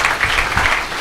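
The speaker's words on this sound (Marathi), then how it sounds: "म्हणून टाळ्या वाजवून प्रभू येशूला धन्यवाद द्या." A congregation at a Marathi Christian prayer meeting claps together, a dense, steady round of applause filling the whole short moment.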